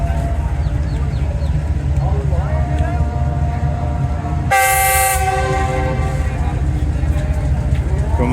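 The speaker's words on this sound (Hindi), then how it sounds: "फाइनल जो डिपार्चर हॉर्न होता है वो दिया है ड्राइवर साहब ने" Departure horn of the Tezgam express train sounding at Pattoki railway station: a loud, sustained horn blast of about two seconds rises over steady rumbling train and station noise, with faint earlier horn-like tones before it.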